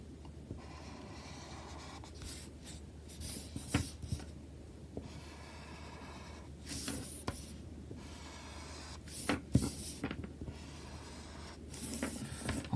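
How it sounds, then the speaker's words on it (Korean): A highlighter pen draws a large box around a problem on a workbook page, giving close, soft scratchy strokes in short bursts separated by quiet pauses. "문제 전체에 크게 형광펜으로 박스를 치는 겁니다"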